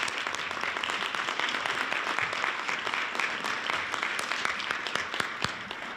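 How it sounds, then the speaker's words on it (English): An audience at a community development conference claps for a panel, a moderate, even patter of many hands that continues without pause, a few individual claps ringing out more sharply near the end. "Let's give our knowledgeable panelists a round of applause"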